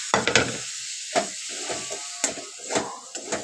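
Soaked paneer cubes are tipped into sizzling masala in a pan and stirred, producing a hissing fry broken by several scraping stir strokes close by, with no talking.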